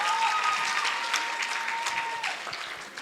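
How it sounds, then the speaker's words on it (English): Sustained applause from an audience after nine candidates finish speaking at a school learner leadership event, steady clapping throughout with a faint tone and light voices underneath. "Can we give them an encouraging round of applause?"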